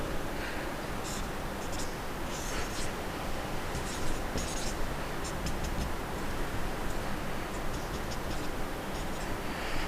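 A pen or marker scratches across a surface while a physics diagram on refraction is drawn by hand, producing faint intermittent strokes in short bursts over a constant hiss of background noise.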